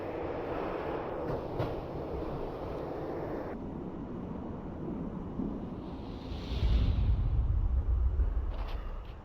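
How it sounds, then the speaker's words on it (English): A train slows down in the video game Max Payne, a steady roaring rumble of wheels and wind with a heavier low surge near the end, continuous and fairly loud. "When the train he was riding slowed down"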